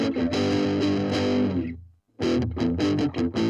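Electric guitar through an amp's lead channel set to overdrive with a flat EQ: a sustained, gritty distorted chord rings out and fades, then a burst of choppy, punchy distorted strums follows, loud and close.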